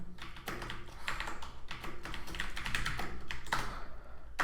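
Rapid clicking taps on a computer keyboard while Java code is entered, a close, dense run of keystrokes with brief uneven pauses, alone with no talk.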